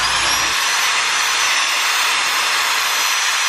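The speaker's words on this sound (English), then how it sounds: "So we're gonna wire wheel it" Loud, steady high-pitched grinding whir of a wire wheel on a power tool removing rust from car metal, running continuously, close by, with no voices.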